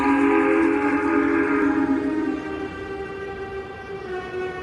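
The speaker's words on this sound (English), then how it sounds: "he and Percy heard a whistle from another engine, which was coming from the darkness ahead of them" A steam train engine's whistle sounds in the darkness, a long, loud, multi-toned blast that holds steady and then fades slightly toward the end.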